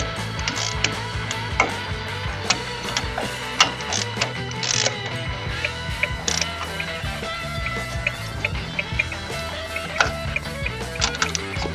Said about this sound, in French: Je vais serrer comme ça au feeling.